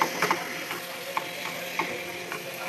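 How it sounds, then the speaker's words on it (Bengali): Vegetables and potatoes sizzle in a pan while a utensil scrapes and stirs, giving occasional sharp clicks over the steady frying hiss. "এগুলোকে দিয়ে ভালো করে নাড়াচাড়া করে নেব"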